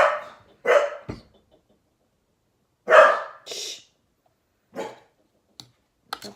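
A dog indoors barking in short separate bursts, several loud close barks spaced irregularly with quiet gaps, and a person shushing between them.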